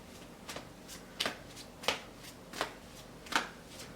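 Tarot cards are shuffled in a series of about six crisp, evenly spaced riffling bursts, fairly faint and close, with no talk over them.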